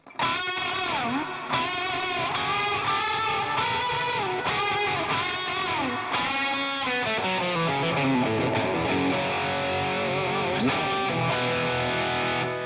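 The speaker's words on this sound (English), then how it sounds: "the gain that comes after the reverb is amplifying all that reverb and just making it explode into this awesome blooming kind of sound" Electric guitar played through a Headrush modeler with gain placed after the reverb, so the reverb swells and blooms into a loud, saturated wash under ringing distorted chords and notes, continuous with no talk.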